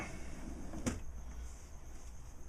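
A drawer in a small woodshop slides open with one brief wooden knock and rattle, close by, followed by steady quiet room hum.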